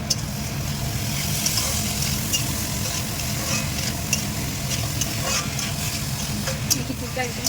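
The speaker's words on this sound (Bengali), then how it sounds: "এবার আমি চাল ডালটাকে দিয়ে একটু ভালো করে কষিয়ে নেব" Rice and lentils stir-fried in a pan for khichdi give a steady sizzle with scraping and stirring clatter, close and continuous, over a low rumbling background.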